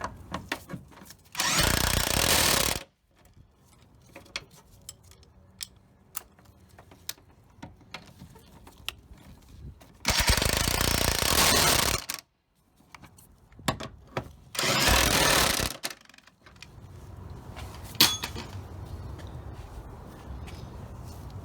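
A power tool tightens motor mount bolts on a 2003 Ford Focus in three loud, close bursts of a few seconds each, with quiet clinking of tools and handling between them.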